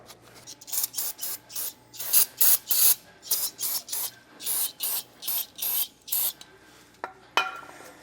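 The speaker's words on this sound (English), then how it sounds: "spray it with the brake clean, wipe it one more time." Brake cleaner is sprayed onto an electric trailer brake assembly on a 2017 Starcraft trailer, followed by shop towels wiping it down: a rhythmic run of about a dozen loud, close, scratchy swipes and hisses, then a couple of sharp clicks.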